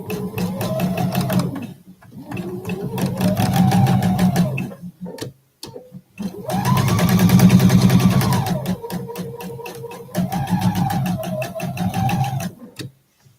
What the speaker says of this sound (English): So this is the way I would actually sew this block.